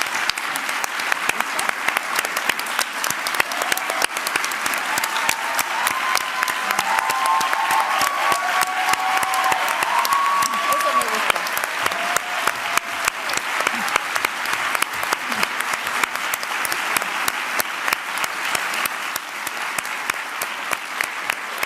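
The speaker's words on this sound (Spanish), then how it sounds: "El aplauso lo dice todo" A lecture hall audience applauds at the end of Rita Segato's talk, a long, sustained wave of clapping from a large crowd, even and unbroken throughout.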